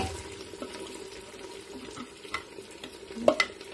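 Mustard greens cooking in a pan with onion and garlic give off a soft, wet sizzle. Quiet stirring and scraping continue throughout, with a few louder clinks near the end.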